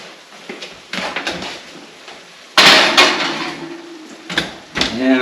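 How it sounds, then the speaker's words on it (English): An egg pie dish is slid into a kitchen oven, with a few clattering knocks, a louder metallic rack-and-door clank, and a closing thud, punctuated by brief handling noises close by. "let's go ahead and put this in the oven"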